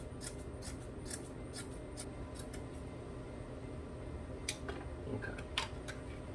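Scissors snip fiberglass mat into small pieces, a series of faint, crisp cuts at an irregular rhythm over a quiet background hum.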